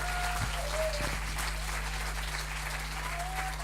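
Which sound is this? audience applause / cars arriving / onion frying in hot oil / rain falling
audience applause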